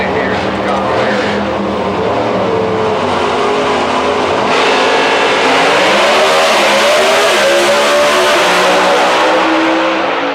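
A Pro Stock drag racing car makes a record run at Houston Raceway Park. Its engine roars loud and close, the pitch climbing partway through, with a voice over the noise.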